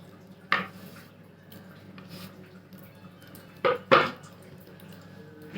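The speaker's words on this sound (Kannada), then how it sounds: "ಎಲ್ಲ ಚೆನ್ನಾಗಿ ಮಿಕ್ಸ್ ಮಾಡ್ಕೊಳ್ಳೋಣ." A spoon clinks and scrapes against a pot while navane (foxtail millet) bisibele bath is mixed, with one knock early and two sharper clatters later over a quiet kitchen background.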